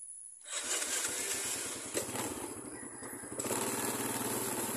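A motorcycle engine kicks in after a brief silence and keeps a steady, close, buzzing putter while riding through a town fiesta in Zamboanga del Norte, Philippines, with the rhythm picking up slightly toward the end.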